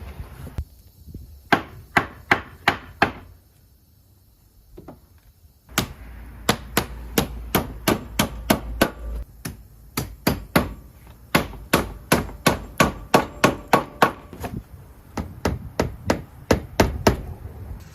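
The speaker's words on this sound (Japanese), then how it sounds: "サブフロア用のプライウッドを後ろから差し入れて止めていきます" Plywood subfloor being fastened into the frame of a vintage camper trailer under renovation: bursts of sharp, regular hammer-like impacts in quick series, close and loud, broken by a short pause and a low rumble midway.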